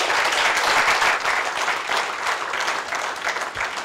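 Steady audience applause after a talk by a railroad civil engineering speaker, a dense wash of many hands clapping that holds for about four seconds with no voices over it.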